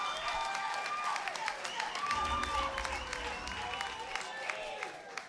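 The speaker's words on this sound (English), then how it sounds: "Give her a big round of applause." Audience applause for award recipient Brigadier Murudili at the 2023 Gauteng Provincial Excellence Awards, a steady wash of clapping from a large crowd that fills the whole stretch, with a voice speaking over it.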